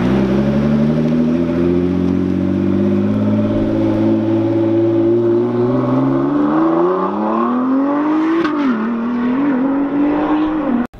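Ford GT supercar engine started up in a car gathering, a loud steady idle drone that climbs in pitch as it revs near the end, close by and with no talking.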